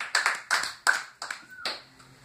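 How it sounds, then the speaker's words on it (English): A comedy-show audience gives a few scattered, separate claps, quiet and brief, fading after a couple of seconds. "You always get claps for moving to a city."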